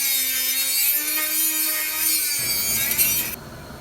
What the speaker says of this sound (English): I'm just gonna go start cutting,